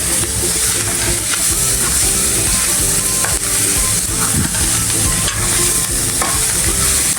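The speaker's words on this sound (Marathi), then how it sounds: "कोथिंबीर थोडीशी टाकते परतायला, म्हणजे ती काळी नाही पडायची." Steady, loud sizzling and frying with stirring scrapes as coriander is sautéed in ghee in a pan for paneer pulao; continuous close hiss with no talking.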